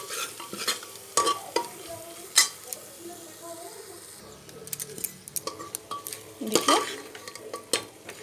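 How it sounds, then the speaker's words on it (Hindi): Fried pointed gourd (parwal) and potato tipped into sizzling masala and stirred, with sharp clanks of spoon on pan, soft frying sizzle and irregular scraping strokes, close by and without talk. "अब हमने जो परवल और आलू को फ्राई किया था, अब हम उसे इसमें ऐड करेंगे"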